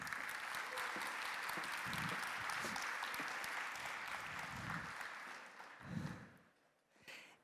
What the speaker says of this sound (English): Everybody give a round of applause for the volunteer coming up.